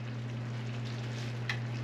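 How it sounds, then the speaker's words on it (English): Chicken thighs simmer in sauce in a pan, giving a steady, low sizzle and bubbling with a constant hum beneath, plus a brief stir or clink near the end. "Everything is coming back here, simmering nicely."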